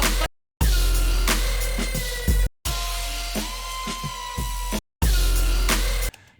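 A bass music track plays in an Ableton Live DJ set. Its heavy low end and layered synths come in choppy sections split by short silent gaps.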